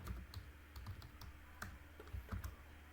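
Code being typed on a computer keyboard: soft, close keystrokes in irregular quick bursts with brief pauses, quiet and alone.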